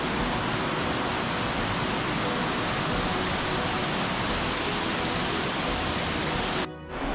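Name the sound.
large waterfall roaring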